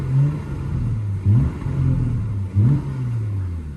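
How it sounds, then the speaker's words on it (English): A 2020 Porsche Panamera 4 sits in park as its engine is blipped twice, each rev rising sharply over a steady low idle rumble, close and clear with no talking. "Go ahead and give it a couple revs here."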